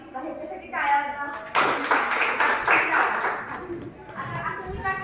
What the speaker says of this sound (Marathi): ह्याच्यासाठी टाळ्या वाजवा